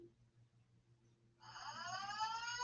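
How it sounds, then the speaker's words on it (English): A building alarm sounds during a false alarm, starting abruptly partway through as a steady, loud, continuous tone after a quiet indoor stretch and holding to the end. "We have a false alarm if you guys hear the alarm."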